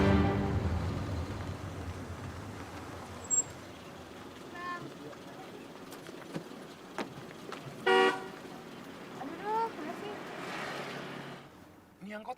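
A car horn honks in short bursts, one clear toot standing out mid-scene and others briefly, amid street traffic and people talking.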